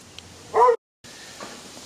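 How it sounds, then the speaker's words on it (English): A dog outdoors lets out a single short, loud bark or yip at a squirrel, followed by quiet background. "And my dog sees a squirrel."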